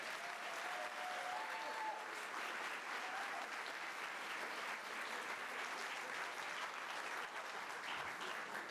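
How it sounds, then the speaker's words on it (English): An audience at an instrumental concert applauds, a dense, even wash of clapping that holds steady throughout at a modest distance. "How about a round of applause for them?"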